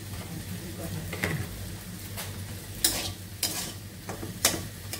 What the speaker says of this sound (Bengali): এখন ভাজিটাও করা হচ্ছে।